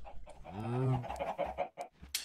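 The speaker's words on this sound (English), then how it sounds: "Here I have my chicken and cow farm." Chickens on a chicken and cow farm in Minecraft cluck and squawk in a few short calls, with one drawn-out call near the start and broken clucks after it, fairly close and with no speech.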